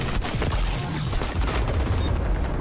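Rapid, continuous automatic AK rifle fire in the shooter game XDefiant, loud and close. Dense bursts fill nearly the whole clip before tapering off slightly at the end.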